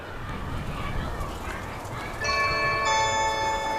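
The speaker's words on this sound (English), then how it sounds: "let's check out the doorbell feature." An Amazon Blink battery-powered video doorbell, mounted on a wedge angled down an alley, sounds its chime: a bright ringing tone that starts about two seconds in and sustains over steady outdoor background noise.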